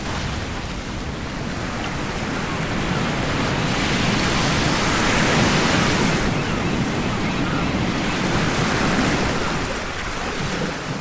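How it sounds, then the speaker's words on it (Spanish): Ocean waves crash against rocks along a coastal street at night, a continuous loud roar of surf and spray with gentle swells in intensity and some wind noise. "Solo el ruido de las olas golpeando las rocas interrumpe la placidez en la calle Neptuno."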